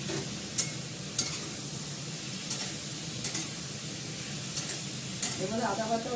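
Kashmiri chilli powder, fried spice mix and ginger sizzle in a pan, with a steady low frying hiss broken by about six sharp spatula taps and scrapes at a regular pace, close by with no talking.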